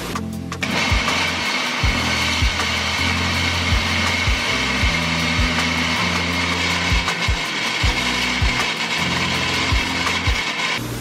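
A blender runs steadily on tomatoes, its motor whirring and grinding as it chops, with repeated low thumps and rattles as the contents churn.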